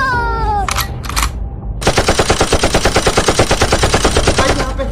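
Rapid machine gun fire in a cartoon bursts out after a brief squeaky voice and a couple of short noises, then runs as a loud, continuous, evenly spaced rattle of shots.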